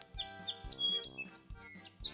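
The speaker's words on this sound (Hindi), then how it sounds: "परिंदे ने अपनी आंखें बंद की और जोर से चहचहाने लगा" A magical golden bird in a cartoon fairy tale chirps loudly in quick, bright bursts over soft low thumps, with no talking.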